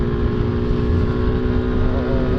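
A motorcycle engine revs hard from cold without warming up, a loud steady engine drone held close throughout with no pauses.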